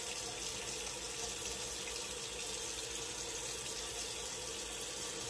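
A bathroom tap runs steadily into a sink for rinsing after a shave, a constant close hiss of flowing water with no voices.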